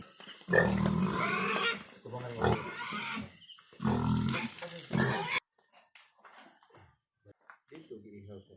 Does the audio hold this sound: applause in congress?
no